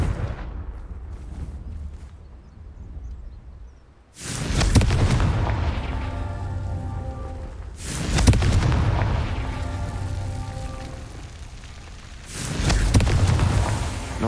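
The Confringo blasting spell explodes in Hogwarts Legacy in three heavy, loud booms. Each blast rolls into a long rumbling tail, and a quieter stretch comes before the first.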